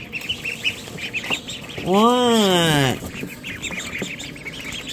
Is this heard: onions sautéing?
no